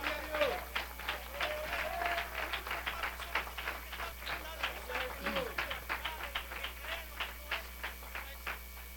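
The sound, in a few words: applause for the Lord in a church service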